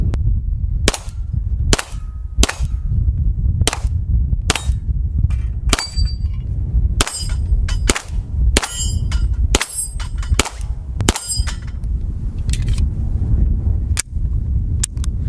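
Beretta M9A3 9mm pistol fired in a steady series of sharp, loud shots, many followed by a bright metallic clang as rounds strike a steel target close by.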